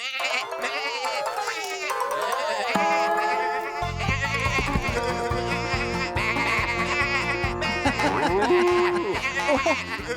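Sheep bleat in a children's cartoon about Tractor Tom's farm picnic, over bright music with a vocal layer running throughout.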